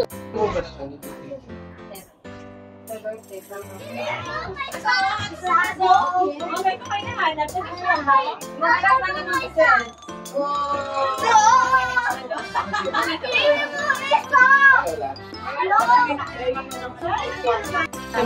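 Children play and talk during a summer yacht party, with lively, high-pitched chatter and shouts running continuously and rising and falling in loudness, mixed with other voices nearby.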